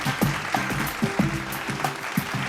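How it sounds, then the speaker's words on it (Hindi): A smaller audience claps unevenly at an honours ceremony in Bihar, with distinct individual claps in a sparse, irregular rhythm, fairly close. "जोरदार तालियां हो जाए फॉर दिस लवली कपल"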